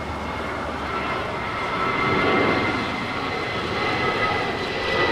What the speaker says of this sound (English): That is JetBlue Airways Flight 1732 departing to Salt Lake City.